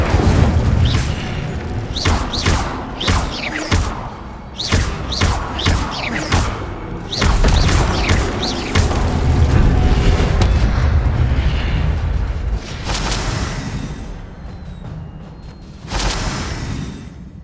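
An Incendio fire spell is cast repeatedly in Hogwarts Legacy, producing a rapid series of loud booming bursts and whooshing blasts, then a sustained roaring rumble with a few more bursts near the end.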